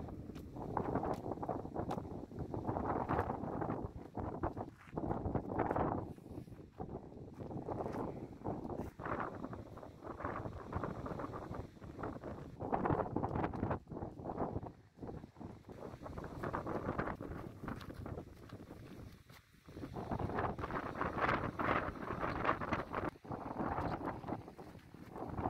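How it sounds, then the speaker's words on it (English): Strong wind gusts on open moorland in the UK buffet the microphone in uneven surges, roaring loudly and then briefly easing before picking up again. "Oh, it's a bit windy out there."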